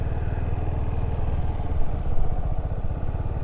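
A motorcycle ridden by a beginner rolls downhill in a parking lot without throttle. A steady low engine rumble runs near and constant throughout, with no revving.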